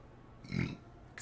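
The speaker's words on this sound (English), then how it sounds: "Excuse me, sorry, I burped right there." A man gives a short, low burp, a single close guttural belch of under half a second in an otherwise quiet moment.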